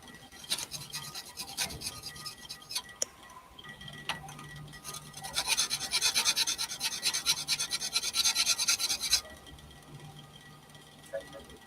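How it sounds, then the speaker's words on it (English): A blade is drawn back and forth across a sharpening stone in repeated rasping strokes that grow louder and denser in the middle, with people talking intermittently. "We have to sharpen both sides then."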